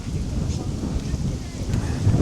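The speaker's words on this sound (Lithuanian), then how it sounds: "Vėjelis tai tikrai yra." Wind gusts across an open riverside in Wroclaw in winter, buffeting the microphone with a low, continuous rumble, and faint voices sit underneath.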